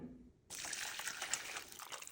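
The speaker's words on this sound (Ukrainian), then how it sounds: "Буду заливати його холодною водою проціжую бульйон" Cold water pouring over a boiled beef tongue in a kitchen, a sudden steady hiss of running water that starts after a brief quiet moment and continues evenly, with no speech.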